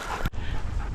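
Several dogs on a group walk pant rapidly and breathily at close range, with a brief sharp break near the start and no talk over it.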